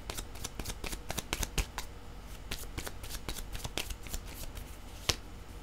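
A deck of tarot or oracle cards is shuffled during a card reading, giving a steady run of crisp riffling flicks heard up close and alone, with one sharper snap near the end.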